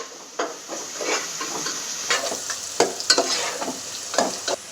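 Onions and chillies frying in hot oil for an Andhra dry prawn curry, a bright, close sizzle punctuated by rhythmic stirring scrapes and taps, with no talking.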